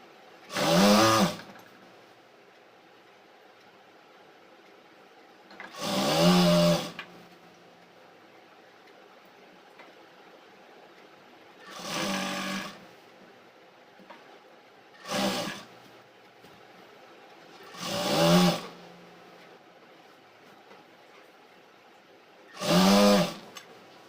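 A sewing machine stitches palazzo pants in six short bursts of whirring, each about a second long and separated by pauses of several seconds; the machine sounds close, with no talk.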